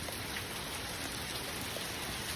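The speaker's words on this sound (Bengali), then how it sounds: "আজকে প্রচুর বৃষ্টি আর হচ্ছে" Heavy rain falls in a constant, even roar of dense patter, uniform and unbroken, heard alone without any talking.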